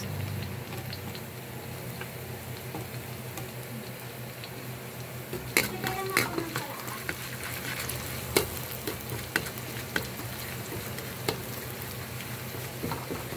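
Onions fry in a pan for chicken caldereta with a continuous crackling sizzle, punctuated by occasional sharp stirring clatters of a utensil against the pan.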